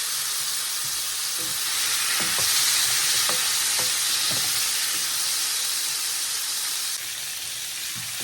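Potato pieces and shrimp fry together in oil in a home kitchen pan, a continuous close sizzle at moderate volume, broken by a few sharp stirring knocks and scrapes in the middle.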